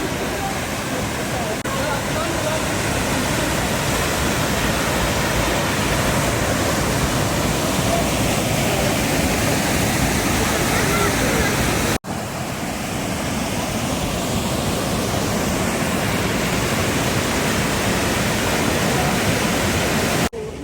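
Aira Force waterfall rushing in a steady, loud, broadband roar close by, unbroken apart from a brief cut midway.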